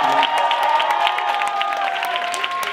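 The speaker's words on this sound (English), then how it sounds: "They all deserve a round of applause for making this happen." Applause and cheering from a crowd at a school prom concert: dense, continuous clapping mixed with shouts and whoops, loud and sustained, with voices calling out through it.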